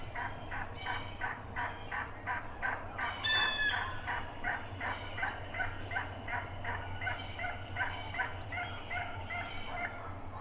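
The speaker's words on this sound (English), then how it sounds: "They're still gobbling pretty often. Lots of gobbling." Wild turkeys call continuously, a dense chorus of rapid gobbles from gobblers and repeated yelps from hens and jakes at moderate distance, with one brief higher call standing out.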